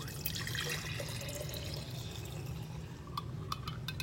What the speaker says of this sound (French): Alors, vous versez votre eau.